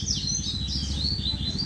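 A coleiro, the double-collared seedeater songbird, sings a close, clear run of high warbling whistles over a steady low background hum.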